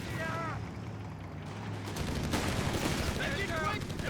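Bursts of .30 cal machine gun fire rattle amid battlefield noise in Company of Heroes 3, rapid repeated shots layered over a continuous din with a steady pulse of gunfire throughout.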